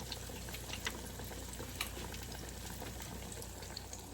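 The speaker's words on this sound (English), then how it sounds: "That's what it looks like in the fryer. And we're gonna let that fry until it gets golden brown." Food deep fries in a fryer until golden brown, giving a steady, faint bubbling sizzle with scattered tiny pops throughout.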